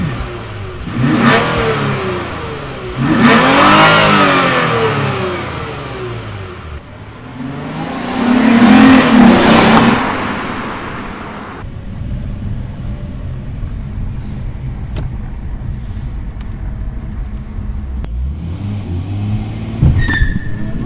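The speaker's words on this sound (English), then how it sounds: "let's get some acceleration shots" New Lexus IS sedan with an engine sound generator accelerating hard through several loud rising revs, with gear changes between pulls, then settling into a steadier engine drone and a brief tire squeal near the end.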